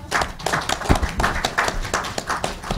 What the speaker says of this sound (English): The applause from Fred was because I stopped on time.